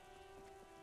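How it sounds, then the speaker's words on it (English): Steady rain falling on surfaces in the video game Disco Elysium, a constant soft hiss of drops with no voices, running evenly and fairly quiet through a brief moment. "raining again. It was clear just an hour ago."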